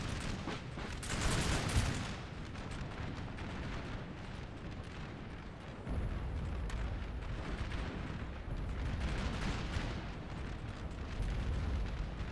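Cannon fire in the video game Napoleon Total War at the Battle of Waterloo: heavy rumbling booms and a dense artillery roar, loud and continuous, swelling in a second wave midway through.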